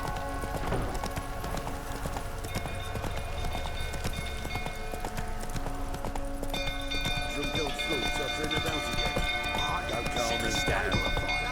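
Roach, a horse in The Witcher 3, gallops with steady rapid clip-clop hoofbeats throughout, close and loud, while voices talk over the hooves and a fire burns nearby.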